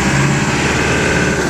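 A 1967 Austin FX4 taxi driving along, its engine a loud, steady close drone filling the cabin without pause.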